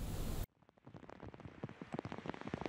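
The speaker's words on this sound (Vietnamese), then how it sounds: "những thông tin liên quan đến đợt mưa lớn kỷ lục tại Nhật Bản trong vòng một thế kỷ" Heavy rain in Japan pattering steadily on surfaces, dense and continuous with scattered louder drops, following an abrupt cut from a louder preceding sound.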